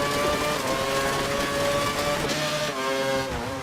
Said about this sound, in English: The car seems to be making all sorts of noises.